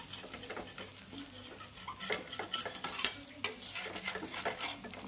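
Puri fries in ghee in a pan with a soft, quiet sizzle, broken by light patters and the scrape and clink of a utensil moving against the pan.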